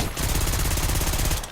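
Rapid-fire automatic gunfire from a high-capacity weapon in the video game Call of Duty Black Ops 6, a steady, fast burst of evenly spaced shots, loud and close, with no talking.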